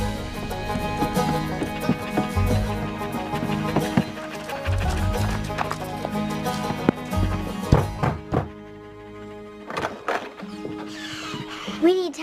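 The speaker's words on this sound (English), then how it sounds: "You found the horse?" Hooves clop and thud in an uneven rhythm, close and fairly loud, mixed with scattered knocks and movement.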